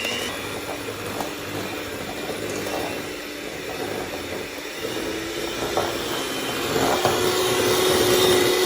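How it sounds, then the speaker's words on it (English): An electric whisk beats eggs for an old-fashioned steamed English pudding, a steady, close motor whir that runs unbroken and swells slightly louder toward the end. "Whisk. Until it's changed colour a little and it's gone paler, more pale than yellow."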